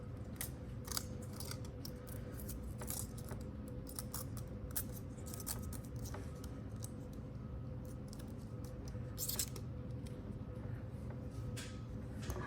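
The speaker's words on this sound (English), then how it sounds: "I am going to fold this metal over my wire all the way" Thin metal sheet is folded over wire for a sculpture, giving close, sharp metallic clicks and crinkles at an irregular rhythm against a steady low background hum.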